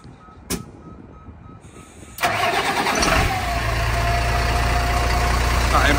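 Bus engine cranks over after a quiet moment with a sharp clack, then settles into a steady loud idle rumble with hissing air, close by.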